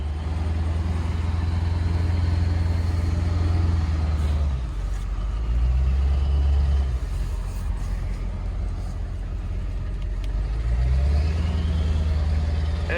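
A loaded Ford F450 with a 7.3 Power Stroke diesel pulls out of a mud hole, its engine a deep, steady rumble that swells, eases off around the middle and then builds again, close and loud throughout.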